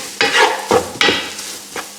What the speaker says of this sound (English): let that fry up, heat up for about 5 minutes